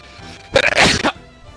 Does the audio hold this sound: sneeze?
yes